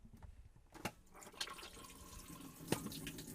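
Water rinsing through the toilet cassette of a Globecar hire motorhome, a soft continuous trickle and splash with a few sharp clicks and drips, close and fairly quiet, with no voices.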